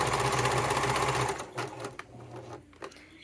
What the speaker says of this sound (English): So as I sew, I make sure that my bottom corners over here are matched up